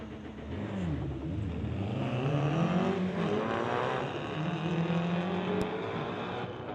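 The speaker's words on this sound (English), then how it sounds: "we've got that Subaru. We've been waiting for him to come up, going against a Volkswagen Bug." A Subaru and a Volkswagen Bug launch in a street-legal drag race at Mission Raceway, engines revving loudly with rising and falling gear-change sweeps as the cars accelerate away, sustained and close.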